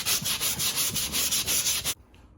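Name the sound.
sanding drywall joint compound on a house wall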